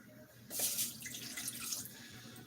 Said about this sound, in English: I'm going to put the water in first.